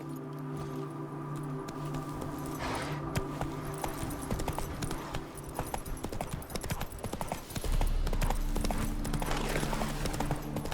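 A horse's hooves clip-clop at a walking pace in The Witcher 3, with an uneven patter of steps over steady background music and game ambience.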